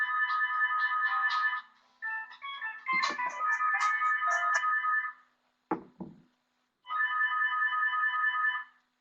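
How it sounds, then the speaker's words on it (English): An electronic chime-like doorbell ringtone plays on a phone in repeated melodic phrases, loud and close, with a brief pause and a short click before it resumes. "Sorry, that's my doorbell ringing on my phone at the same time."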